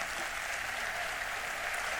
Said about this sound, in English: A huge round of applause for Nilarko Pahari.